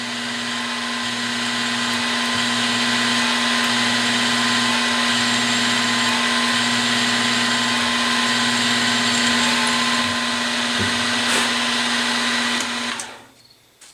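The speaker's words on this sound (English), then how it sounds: "very light pressure at first until you get it started, and then you can drill the hole" A continuous high-pitched whine of a power drill boring a hole in metal for a CNC plasma table, steady and loud throughout, cutting off abruptly at the end.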